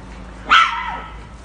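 A single short husky puppy cry rises sharply and trails off, close by, over a faint steady background hum.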